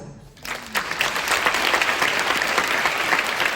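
Audience applause at a curtain call for a drama academy's 40th-anniversary stage performance, a dense steady wall of clapping that rises after a brief quiet start and carries on loud and sustained.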